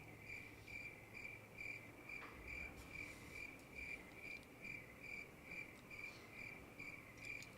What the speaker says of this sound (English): I'll probably just put like cricket sounds or something.